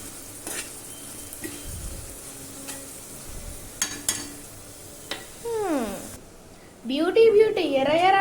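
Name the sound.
stirring frying food in a pan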